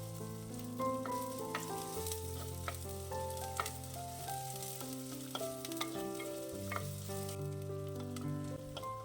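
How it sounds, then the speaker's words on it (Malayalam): Thinly sliced shallots sautéing in oil for a Kerala kovakka curry, a faint sizzle heard under background music with tonal melodic lines and occasional clicks. "അതിനുശേഷം ചെറുള്ളി ചേർക്കാം."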